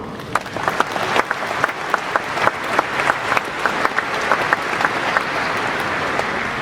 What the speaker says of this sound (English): I just want to give a round of applause to Ruberat and the International Affairs Office